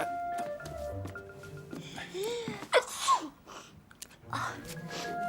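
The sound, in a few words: sneeze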